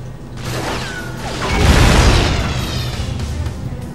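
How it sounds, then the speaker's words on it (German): A detonating object in James Bond Nightfire goes off with a deep, swelling boom that rises to a peak at mid-clip, then fades into rumbling debris and mechanical noise. "Und das Ding ist detoniert"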